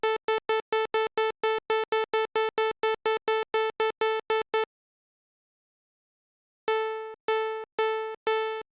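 A plucky synth lead for a hardstyle track, with a filter and short decay, fires a fast, even string of short clipped notes. After a pause of a couple of seconds, a few longer-ringing plucks follow.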